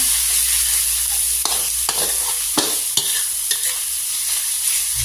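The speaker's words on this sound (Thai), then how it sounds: "ผัดกะปิกับเนื้อหมูนะคะให้เข้ากันก่อนเลยนะคะ" Grilled shrimp paste and minced pork being stir-fried for a Thai chili dip: steady close sizzle with a handful of sharp spatula scrapes and knocks against the pan, no voices.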